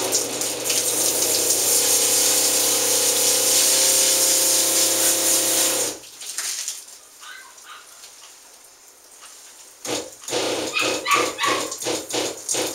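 A water sprayer pulses in short rhythmic bursts while flushing a dog's dirty ears during grooming. A steady loud hiss comes first, then a quieter stretch, then choppy spurts.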